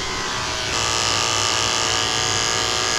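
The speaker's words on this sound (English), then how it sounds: "Let's see if I can shave some of it off." Electric clippers buzz close and steady while shaving a Shih Tzu's fur at a groomer, the hum growing louder and brighter partway through.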